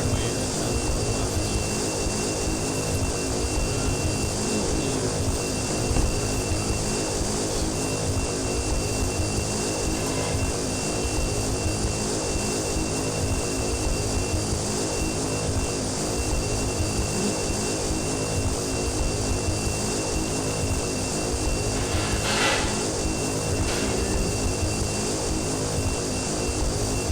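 A Carenado Grand Caravan single-engine propeller plane in X-Plane 11 drones steadily in flight, a dense, unbroken engine and prop roar at constant level throughout, with no voices.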